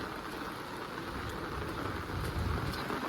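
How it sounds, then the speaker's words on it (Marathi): Heavy monsoon rain falls at a steady, moderate loudness, a continuous broadband patter with a low rumble beneath it. "पाऊस खूप जोर आलेला आहे"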